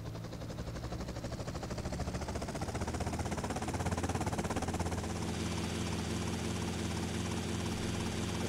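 A helicopter in GTA Vice City flies with a steady, rapid rotor chop over a broad engine roar, holding constant and fairly loud throughout.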